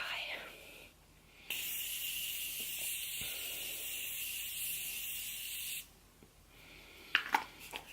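A continuous face setting spray hisses out in one steady, close mist lasting about four seconds, with quiet rustles and faint clicks around it.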